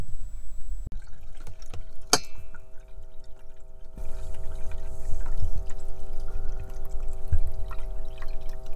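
Water is poured to prepare dish washing in a VW T6 camper van: a steady pouring and trickling runs through the clip, with a single sharp clank of glass or metal early on and light handling noises throughout, no talking.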